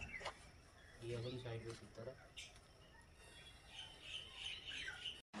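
Wild pigeons and chukar squawk and chirp outdoors at Lahore Safari Zoo, faint and scattered, while someone talks over them.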